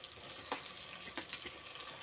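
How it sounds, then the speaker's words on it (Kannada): Chopped tomatoes sizzle softly in a pan for a vegetable pulao, a faint steady frying hiss broken by a few quick scraping stirs. "ಟೊಮ್ಯಾಟೊ ಮೆತ್ತಗಾಗೋವರೆಗೂ ಸ್ವಲ್ಪ ಫ್ರೈ ಮಾಡ್ಕೊಳ್ಳಿ"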